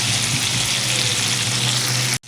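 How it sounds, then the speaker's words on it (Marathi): Tomatoes sautéing in hot oil for a dry cauliflower and potato dish, making a loud, continuous, close-up sizzle that cuts off abruptly at the end. "आपण हे टोमॅटो छान असे परतून घेऊयात"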